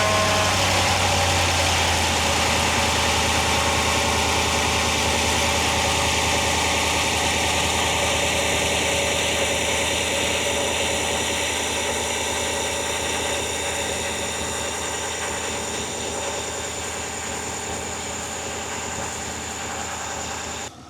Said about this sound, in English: So there's the new pump just doing its thing.